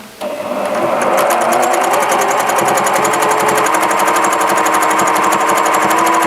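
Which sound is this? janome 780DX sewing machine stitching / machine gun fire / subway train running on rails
janome 780DX sewing machine stitching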